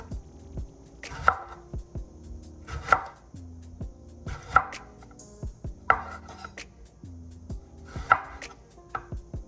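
A knife slices through a tomato on a cutting board in a home kitchen, giving roughly six crisp chopping strokes at an uneven pace, each ending in a light knock against the board. The sounds are close and clear, with no talking.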